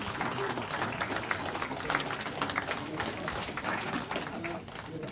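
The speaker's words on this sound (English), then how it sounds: "Comrades, I think Imputka SG deserves a bigger round of applause." A crowd applauds throughout at a political media event with a governing-party official, steady dense clapping at moderate distance that eases slightly near the end.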